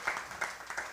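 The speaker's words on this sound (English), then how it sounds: "I think we can give a round of applause before we move on to our next question." A brief patch of applause from a workshop audience, soft and scattered claps rising and fading in quick clusters.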